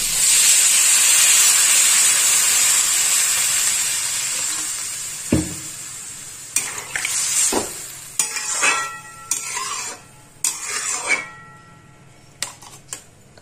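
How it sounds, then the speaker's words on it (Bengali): Water poured onto fried spice paste for a Bengali fish curry with eggplant, a loud hissing burst that fades, then a series of sharp ladle knocks and stirring clatter against the pot. "এবার আমি এর মধ্যে দিয়ে দেবো জল।"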